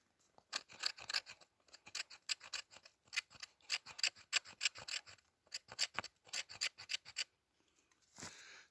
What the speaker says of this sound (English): That's what I'm scraping off. It's just little piles of scrapings, and it's not going to take much because this stuff's just loaded with resin.